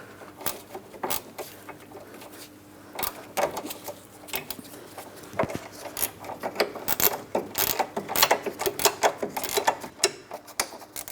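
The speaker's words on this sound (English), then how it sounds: "Using my ratcheting wrench for this" A ratcheting wrench clicks in quick bursts while tightening a car's front lower control arm bolt, faint and close, with irregular runs of small metallic clicks growing denser toward the end.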